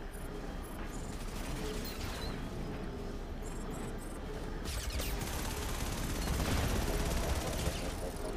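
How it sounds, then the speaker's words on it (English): Missile launches in the sci-fi shooter Starhawk fire off in a rapid mechanical rattle, a dense, continuous clatter with a heavier rumble building toward the end, and some talk mixed in. "I fired a million missiles."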